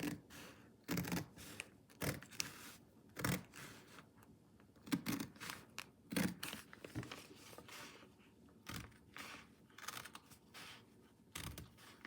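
Scissors cutting quilt fabric pieces for a table runner, a series of short crisp snips and rustles spaced irregularly across the clip, close and fairly quiet with no talking.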